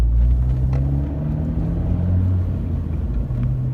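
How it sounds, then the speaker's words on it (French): Deep, throaty Abarth exhaust rumble from an Abarth 124 GT, idling and burbling steadily, with a low droning tone and slight revving swells, close by and without talk. "ce qui est très sympa, c'est le bruit des pots Abarth"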